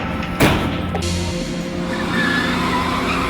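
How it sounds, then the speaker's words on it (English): Near a parking deck at night, a car's tires screech in a sharp skid, then the engine hum fades as the vehicle pulls away, with no voices present. "The car then speeds away into the night."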